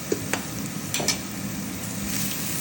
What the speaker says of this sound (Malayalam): ഒരു രണ്ട് മിനിറ്റ് മൂന്ന് മിനിറ്റ് കൊണ്ട് കഴിയുന്നു കിളക്കി കൊടുത്ത് വഴറ്റിയെടുക്കാം